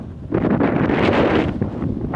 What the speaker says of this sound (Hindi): अभी भी इतनी तेज हवा चल रही है